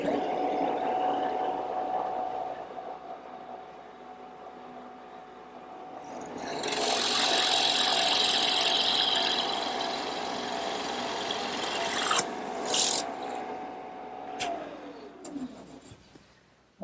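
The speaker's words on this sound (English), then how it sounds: "I just put a 1-inch bit in my drill press." A drill press fitted with a 1-inch bit boring a hole in wood, a steady motor hum with a louder whirring bite through the middle of the cut, then a few knocks and the motor spinning down near the end.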